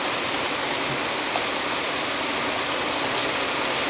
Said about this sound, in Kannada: ಈ 3 ದಿವಸದಿಂದ ಕಂಟಿನ್ಯೂಸ್ ಆಗಿ ಮಳೆ ಹುಯ್ತೈತೆ